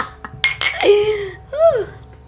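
Glass bottles clink together in a toast with a few bright, ringing knocks close by, followed by drawn-out vocal calls.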